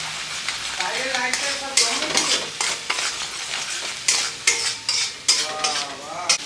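Masala sizzles in hot oil in a frying pan while being stirred for mixed chowmein, a busy crackling hiss with repeated scraping spatula strokes in close, loud bursts, no talking.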